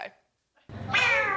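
A drawn-out, rising meow starts after a short silence, close and fairly loud, sounding like a person imitating a cat, with a brief clipped sound at the very start.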